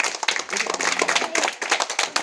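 Brief burst of clapping from a classroom of government school students, a dense patter of hands for a couple of seconds, close and fairly loud.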